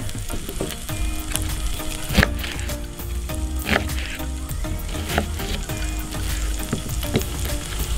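Chopped shallots dropped into a pan of hot fat for an Italian sausage carbonara sauce, crackling loudly and steadily close up, with sharp utensil knocks and scrapes against the pan scattered through the sizzle.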